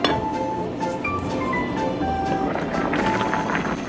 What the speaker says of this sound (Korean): 뚜껑 덮고 끓여줄 거예요.